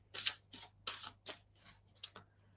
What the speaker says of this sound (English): So I'm going to shuffle the romance deck.